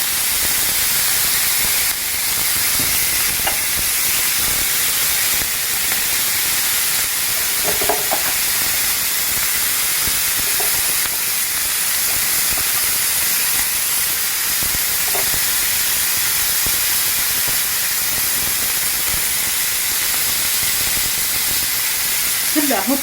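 A homemade smash burger patty fries on a hot pan, a loud, unbroken hissing sizzle that fills the whole stretch, with faint handling clicks now and then.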